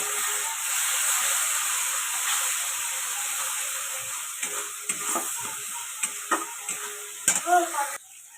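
Spice masala sizzling and frying in a pan after a splash of water, a steady hiss with soft stirring scrapes that grow more frequent near the end, close and moderately loud.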